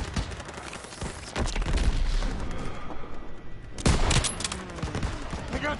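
Dense gunfire in the Call of Duty: World War II video game, bursts of rapid shots and booms crackling continuously across a chaotic battle, loud and sustained with a heavier volley near the end.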